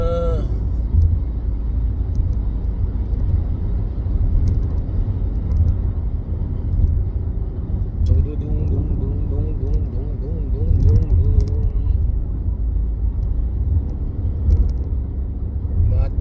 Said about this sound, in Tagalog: Traffic pag ganitong oras, rush hour.